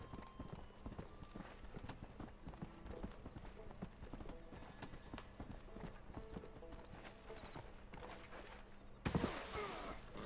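Rhythmic hoof clip-clop of a galloping horse in Red Dead Redemption, steady and moderately close, with a brief louder burst near the end and faint voices underneath.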